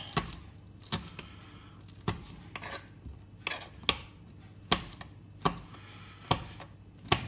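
A knife chops chilies on a cutting board for bread and butter pickles, giving about ten sharp, separate knocks at an uneven pace. The strokes are close and clear over a quiet kitchen background with no talking.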